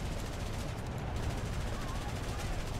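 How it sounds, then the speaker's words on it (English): .50 caliber machine gun fire in War Thunder, a steady, dense stream of rapid shots that never lets up, heard alongside engine drone and faint voices. "Oh, man, that was 50 cals."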